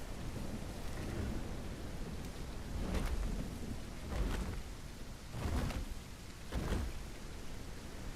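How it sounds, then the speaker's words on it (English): Thunderstorm with steady heavy rain in the dinosaur survival game The Isle Evrima, a constant dense hiss of rainfall broken by several low rumbling thunder swells, with no voices. "Let's make use of this thunderstorm."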